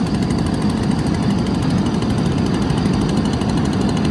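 A BG56 leaf blower runs steadily beside a 55-gallon fire barrel, forcing air into the fire; a constant, loud droning engine roar with a rushing whoosh, unbroken throughout.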